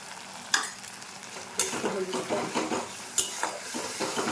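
Spices sautéing in a pan for a chickpea, potato and tomato curry, with a steady close sizzle broken by a few sharp scrapes and clinks of a stirring spoon against the pan.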